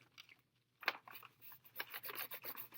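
Crayon or pencil rubbed back and forth over a bumpy textured surface to make a rubbing print: quiet, close, repeated raspy scratching strokes in an uneven rhythm.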